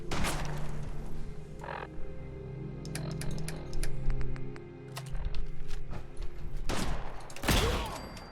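Gauss rifle fire in Fallout 4 survival mode, heard as a few sharp, loud electric blasts with crackling tails, spaced apart over a low game ambience, with a heavy discharge near the end.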